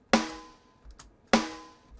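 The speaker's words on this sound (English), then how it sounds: "the next one is an acoustic snare drum." Two crisp acoustic snare drum sample hits about a second apart, each with a bright crack and a long ringing tail, played alone and close.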